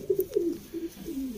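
A pigeon coos close by in a few short, soft, throaty bursts, alone and fairly quiet.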